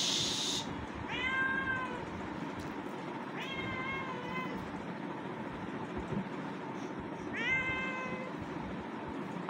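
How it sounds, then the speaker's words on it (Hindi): A cat meows three times, spaced a few seconds apart, each call a clear rising-falling tone over a faint steady background hum, fairly close and with no talking. "आज भागवतम के साथ में बिल्ली का म्याऊ म्याऊ भी चल रहा है।"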